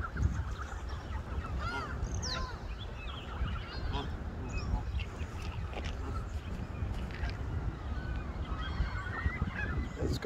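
Geese honk repeatedly and overlapping while being fed outdoors near downtown Chicago, calls rising over a constant low background rumble, with occasional faint voices.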